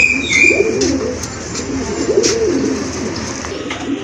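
Racing pigeons and other domestic and foreign pigeons at a pigeon sale coo in soft, repeated low calls close by, with some faint higher chirps and background bird noise throughout.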